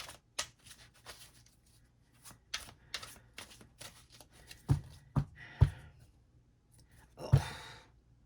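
Tarot cards being shuffled by hand during a daily reading: a series of soft papery riffles and flicks with a few sharper snaps of cards striking, quiet and close, with no talking.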